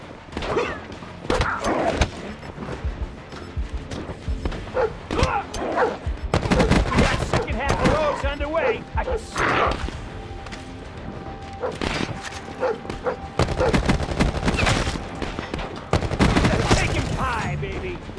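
An automated sentry turret and other weapons fire in Call of Duty: Black Ops 4, sharp repeated bursts and volleys of shots with crashes between them, loud and close, while game voices talk over parts of it.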